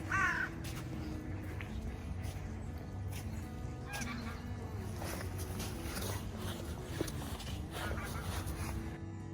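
Crows caw repeatedly near water in a Swedish nature setting, with scattered calls from other birds over a quiet outdoor background.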